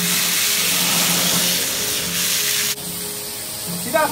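Loud, steady roaring hiss of a wok stir fry over a gas flame, flaring fire in the pan, broad and close, cutting abruptly to a quieter sizzle near the end.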